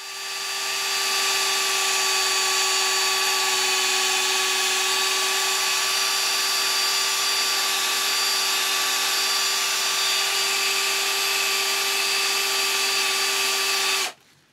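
A drill spins an 800 grit abrasive disc on a foam backing plate, sanding a car headlight lens dry, giving a steady, loud whine with a constant pitch that runs unbroken for about fourteen seconds before cutting off.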